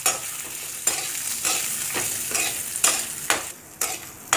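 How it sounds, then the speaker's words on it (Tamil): Shallots, garlic and dried red chilies sauté in a hot pan, a bright steady sizzle punctuated by several sharp spatula scrapes and stirs, close up with no talking. "அடுத்து சின்ன வெங்காயம் ஆட் பண்ணிக்கோங்க"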